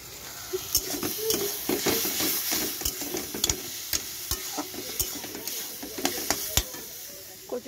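Taro greens cooking in a pan sizzle steadily, with repeated close scrapes and clicks as they are stirred over the hiss, and a faint voice in the background.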